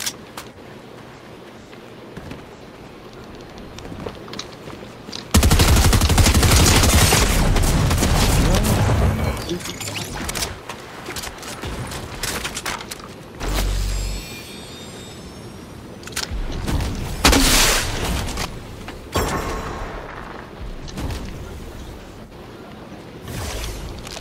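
Fortnite Chapter 4 Season 3 gunfire bursts loudly in dense volleys of rapid shots, with quieter gaps between, while a player talks faintly.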